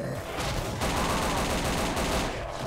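Rapid, continuous gunfire from a powerful weapon in the Project Lazarus zombies video game, a dense unbroken fusillade of loud shots that fills the whole stretch with no pauses.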